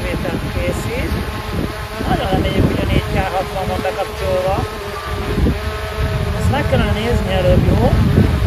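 A DJI Mini 3 Pro drone circles nearby in strong wind, its quiet wasp-like buzz wavering in pitch under gusting wind noise while someone talks over it.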